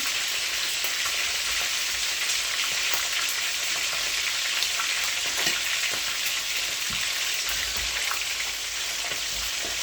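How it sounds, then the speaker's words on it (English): Fish sizzling steadily in hot oil in a pan for brown stew, a dense, loud crackle with scattered sharper spits and pops throughout, no voices. "There's one thing I don't like with fish is that when it's frying, it splashes a lot."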